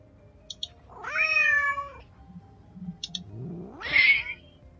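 A cat creature in the video game SAW gives a loud, drawn-out meow with rising harmonics, followed by a pause and a second harsher, angry yowl, with faint ticks between.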